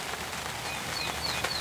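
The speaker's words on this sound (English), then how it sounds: "Even though it's pouring rain" Pouring rain on a cold, wet day makes a steady, even hiss throughout, with a few thin bird calls faintly above it.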